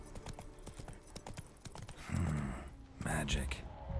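Hoofbeats of Geralt's horse Roach in The Witcher 3 clip-clop in a steady trotting rhythm, growing heavier and louder in the second half, with a voice briefly over them.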